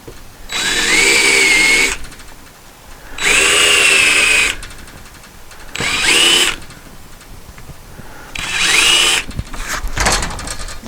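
Four loud, close bursts of a power drill driving a Forstner bit into wood on a rotten cargo trailer door, each whine rising as it bites, with quiet gaps between.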